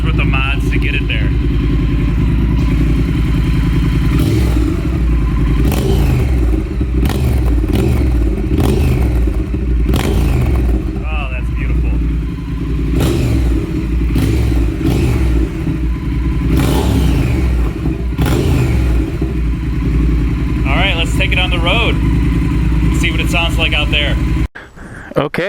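Triumph Thruxton R motorcycle fitted with cone slip-on mufflers, its engine running loud and steady throughout with revving surges and clattering mechanical noise, a voice speaking over it at times and an abrupt cut near the end.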